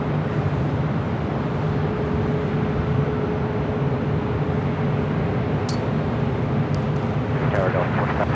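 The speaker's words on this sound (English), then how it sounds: "Takeoff on the south side is Alaska Airlines in the San Francisco Giants livery, heading to Seattle to 737 MAX 9" Alaska Airlines Boeing 737 MAX 9 in San Francisco Giants livery taking off at LAX, a steady broadband jet roar heard from a distance, continuous throughout with a faint tonal hum beneath.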